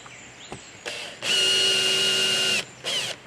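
A power drill driving screws into a cargo trailer during a conversion build, several loud close bursts of whining motor, with one long sustained run between short spins and no talking.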